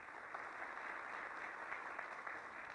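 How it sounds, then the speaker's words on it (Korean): Audience applause greeting National Assembly members arriving at a Korean digital-economy policy forum, a steady wash of many hands clapping, fairly faint and even throughout with no talk over it. "박수로 환영을 부탁드리겠습니다."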